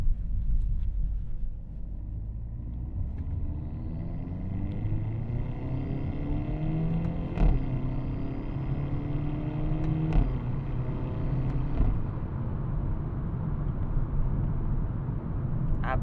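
A 2024 Hyundai Elantra N with 276 horsepower accelerating on the road, heard from inside as a low, steady engine rumble with rising and falling tones, moderately loud and continuous, with no talking.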